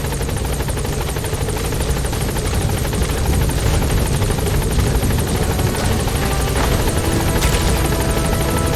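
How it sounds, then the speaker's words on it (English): In Metal Gear Solid 5: The Phantom Pain, an arriving helicopter fills the scene with a loud, continuous rotor thrum and engine whine, holding steady and close throughout. "the Helicopter has arrived"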